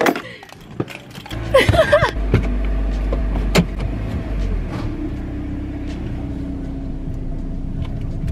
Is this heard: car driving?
yes